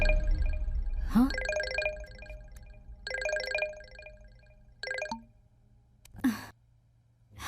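A phone rings with an incoming call in a Hindi-dubbed film scene: several bursts of a bright electronic ringtone separated by pauses, with soft whooshing effects between them.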